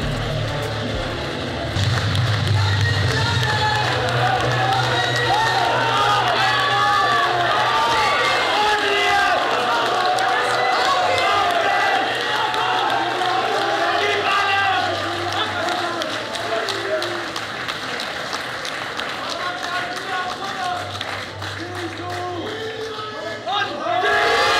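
Audience at a powerlifting competition cheering and shouting loudly and continuously, a dense crowd roar with voices calling out over it.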